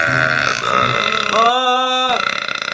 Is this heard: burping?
yes